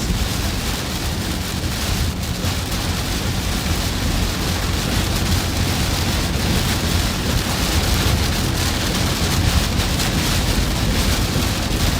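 Heavy rain pours steadily during a storm chase in Iowa or Wisconsin, with wind buffeting the microphone and a low rumble underneath, loud and continuous throughout with no talk.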